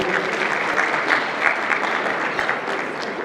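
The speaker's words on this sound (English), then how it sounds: "Let's give them also a round of applause." Steady applause from a crowd, dense continuous clapping at an even loudness throughout, with no voices rising above it.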